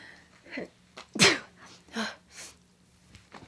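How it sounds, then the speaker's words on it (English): A single loud sneeze bursts out near the microphone, preceded by short breathy inhales and followed by quieter breaths. "I'm gonna sneeze."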